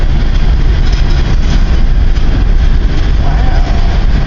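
A long CN freight train rumbles past close by, a loud, continuous heavy roar of wheels and cars with deep low-end engine drone and no break over several seconds.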